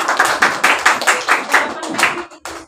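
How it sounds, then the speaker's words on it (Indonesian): Classroom applause for a student: a short burst of hand clapping from a group, roughly eight or nine uneven claps close by, fading out at the end. "Ya, tepuk tangan untuk Patrick"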